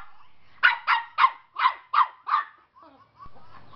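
A dog barks six times in a quick, even series, close and loud, then falls quiet with a few faint sounds after; it is barking at a phone playing a baby sound.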